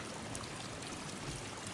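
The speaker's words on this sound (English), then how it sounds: "this is actually potable spring water" Potable spring water pours steadily out of a pipe near an old foundation and runs down into a stream, a soft continuous trickling and splashing heard close up with no talk.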